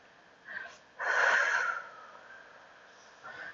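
A person breathes in during a Pilates leg-swing exercise, a close, airy inhale that swells for most of a second, with softer breaths just before and after.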